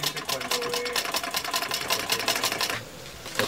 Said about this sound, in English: Another person sews with the machine.